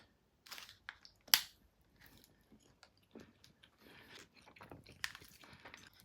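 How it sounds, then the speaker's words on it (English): Biting and chewing a caramel peanut protein bar, a sharp crunch near the start followed by softer, irregular chewing sounds, close and fairly quiet with no talking. "it's an ESN designer protein bar"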